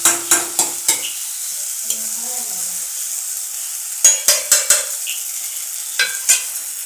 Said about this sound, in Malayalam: ഇത് നമുക്ക് നല്ലോണം ഇളക്കി മിക്സ് ചെയ്ത് കൊടുക്കാം.